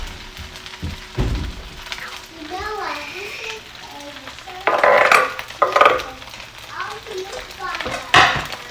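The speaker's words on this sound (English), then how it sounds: "And just stir it up just a little bit, just to soften it the tiniest bit" Bacon fried rice with scallions stirred in a pan, soft scraping and gentle sizzle under intermittent children's voices and chatter, with a few louder clattering bursts near the end.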